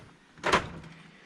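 A Halfords modular toolbox drawer slides open in one quick, close metallic swish and knock, then a faint room hush.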